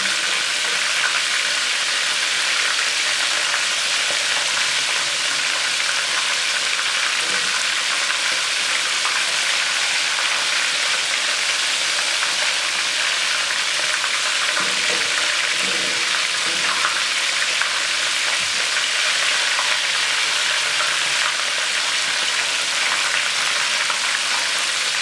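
Oysters and shrimp deep frying in hot oil, turning crispy and brown, give a steady, dense, close sizzle and crackle that runs unbroken throughout, with no voices.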